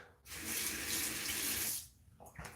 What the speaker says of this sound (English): I'm just literally just throwing a little bit of water on top of my 1955 soap here.